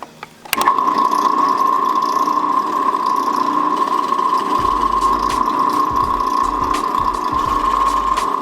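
A step drill bit bores a hole for a tow hook on a 2018 Subaru Crosstrek, a loud, steady whining drill drone that starts abruptly and runs unbroken, with faint grinding underneath.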